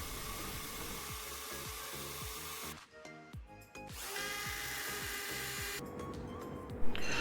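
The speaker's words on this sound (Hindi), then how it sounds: "ड्रिल मशीन की मदद से होल कर लेंगे।" A handheld electric drill bores holes into a wall for curtain rod clamps, a loud continuous whine that stops briefly, restarts and then cuts out near the end.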